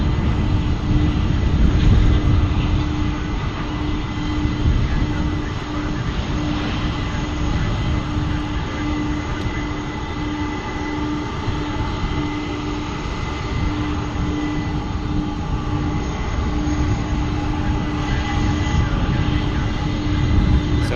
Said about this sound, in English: We got a Dreamliner